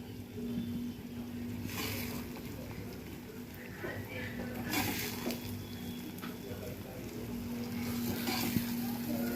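Masala sizzles with prawns in hot oil, a quiet steady fry broken by louder hissing bursts as it is stirred, while a person talks.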